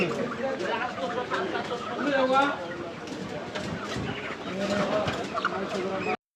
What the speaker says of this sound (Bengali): বন্ধুর মুরগির দোকানে ঘুরে ঘুরে দেখতেছিলাম তার দোকানে কি কি মুরগি আছে